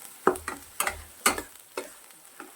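Turmeric and spices being sautéed in a pan for a spicy sprouted moth bean curry: about six rhythmic spatula scrapes and clacks, each with a short, soft sizzle, close by and with no talking.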